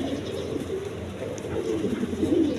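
Pigeons of a red colouring breed coo steadily and close by, with low, soft, continuous cooing and faint background noise.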